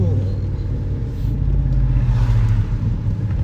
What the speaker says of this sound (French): Ah, le V8, ça fait du bruit.